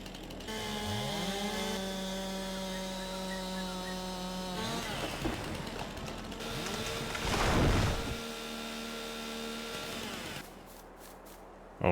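A chainsaw cuts down oak trees in Farming Simulator 22, its engine revving up and down with changing pitch, a louder cutting stretch near the middle, then idling before stopping with a final clunk.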